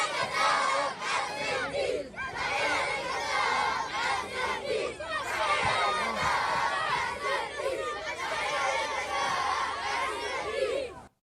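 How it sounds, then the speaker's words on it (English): A large crowd of children shouts and chants together in celebration, loud and continuous for several seconds, many voices overlapping in rising and falling waves before cutting off abruptly. "here are those children cheering as all of this is happening"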